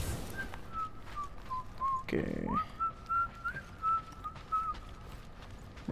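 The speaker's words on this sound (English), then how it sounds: "why are you whistling?" A person whistles a wavering, drawn-out tune, fairly close, the notes sliding and held over a quiet background, broken once by a brief burst of noise and a short spoken word.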